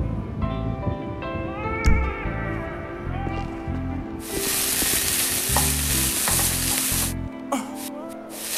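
Food sizzling on a stove in GTA 5 roleplay: a loud, steady frying hiss breaks in midway and runs for about three seconds over ongoing background music, then cuts off.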